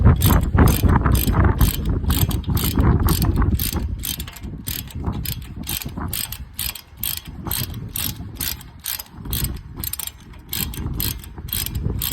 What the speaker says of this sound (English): Tighten down your two 18 millimeters.